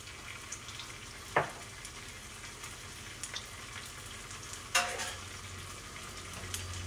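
Chili paste and black bean paste are stirred in a pan over a faint, steady sizzle, with two sharper scrapes of the utensil and a few light clicks. The sound is quiet and close.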